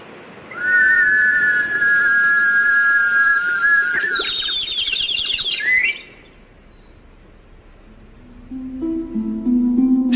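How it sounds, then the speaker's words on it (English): A warbling whistle attached to a cup and lowered into a tank of water gives a steady, loud bird-like trill that wavers and rises in pitch before cutting off, followed by quieter tones. "Just a cup attached to a warbling whistle being lowered into a tank of water."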